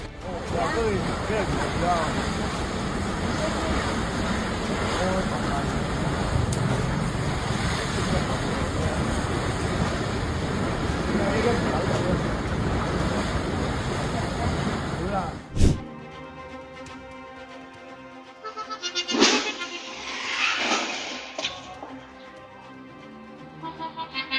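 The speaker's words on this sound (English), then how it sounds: "Wanda, mud volcano in southern Taiwan, erupted. Listen to it roar." An erupting mud volcano in southern Taiwan gives a continuous, loud, rushing roar for about fifteen seconds. It then cuts abruptly to a quieter scene with scattered bursts of noise.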